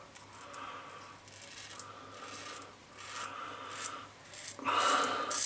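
Safety razor fitted with a Derby blade scraping across stubble during a wet shave, close-up repeated rasping strokes in an uneven rhythm that grow louder toward the end, with no talking.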